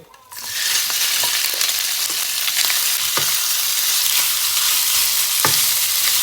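Oil-marinated pork stir-fries in a hot pan with a loud, continuous sizzle, punctuated by scattered scraping clicks from the stirring utensil, up close with no talking.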